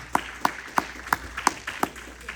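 A church congregation claps in a steady, evenly spaced rhythm, roughly three sharp claps per second, crisp and distinct rather than a dense roar.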